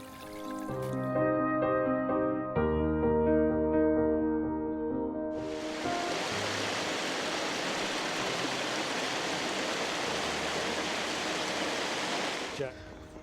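Water rushes steadily from a mountain stream on the Art Loeb Trail as a loud, close, continuous broadband wash over the second half of the clip, with tonal music playing before it and no talking.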